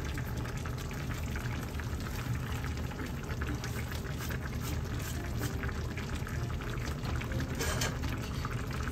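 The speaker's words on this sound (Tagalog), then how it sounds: "Pakulan lang po natin yung murang sibuyas para maluto ng maayos." Spicy coconut-milk broth with giant mud crab simmers with green onions stirred in, giving a steady close bubbling and liquid churn that stays even throughout, with no talking.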